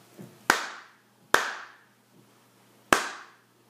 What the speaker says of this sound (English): Here's what it sounds like if I clap this rhythm.